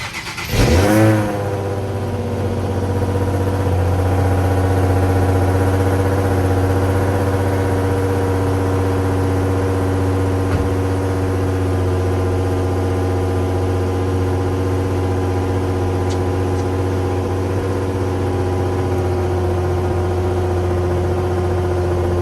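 A 2007 Nissan 350Z HR with 60k miles cold-starts with a quick crank and rev flare, then settles into a steady, loud, deep idle humming evenly close by for the rest of the time.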